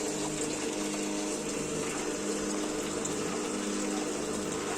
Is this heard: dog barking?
no